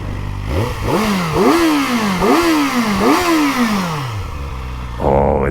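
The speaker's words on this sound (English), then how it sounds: "Just to hear that little engine sing." A Kawasaki Ninja ZX-4RR motorcycle's small inline engine revs up repeatedly in several rising blips, loud and close, then falls away before a brief idle returns at the end.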